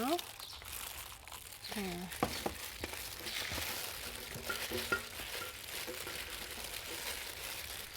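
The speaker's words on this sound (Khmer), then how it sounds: "ខ្ញុំនឹងចាប់ផ្ដើមវិចវាជាមួយនឹងกระดาษអាលុយមីញ៉ូមយើង" Aluminium foil crinkles and rustles as it is wrapped around a seasoned native chicken, crisp crumpling bursts over several seconds with a person speaking briefly at the start.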